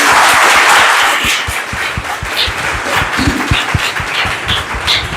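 Students at an Uttar Pradesh agriculture academy applauding, a dense steady patter of many hands clapping together, fairly loud and without speech.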